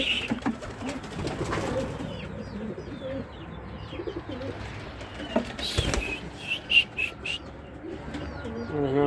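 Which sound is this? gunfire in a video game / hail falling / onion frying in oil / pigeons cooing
pigeons cooing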